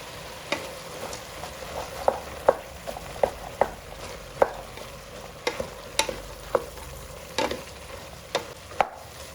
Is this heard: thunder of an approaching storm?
no